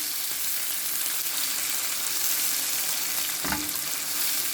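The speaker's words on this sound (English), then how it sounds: "So you want to fry your prawns before you start the entire process of frying your noodles." Marinated prawns frying in a pan give a steady, close sizzle, broadband and unbroken for the whole stretch, with a brief louder spit or stir near the end and no voices.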